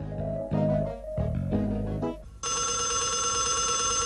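A telephone bell starts ringing partway through, loud and continuous, after a few seconds of background music, with no voices over it.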